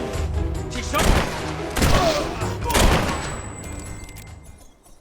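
Gunfire in the video game Fable 3, three sharp, loud bursts of shots about a second apart, each with a booming tail, fading into quieter rumble and a thin electronic tone.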